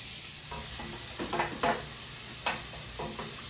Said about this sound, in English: Okay, into the frying pan. What a great sound.